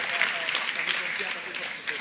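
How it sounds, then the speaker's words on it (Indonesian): Audience clapping at a night-time Sinau Bareng gathering with Cak Nun, Banser members present; a moderately distant burst of hand claps that stays steady for about two seconds, with crowd murmur underneath. "Tepuk tangan."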